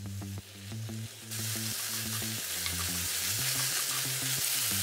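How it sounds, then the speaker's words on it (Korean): Seaweed stir-frying in perilla oil and soy sauce over medium-low heat, a steady loud sizzle that swells and fills the pan, with rhythmic low clanking of a utensil stirring at first. "중약불로 2분 정도 볶아주고"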